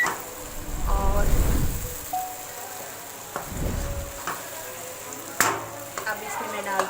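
Okra for dhaba-style bhindi masala frying in a pan, sizzling in bursts as it is stirred, with loud crackling surges and quieter stretches between, someone speaking at moments over the cooking.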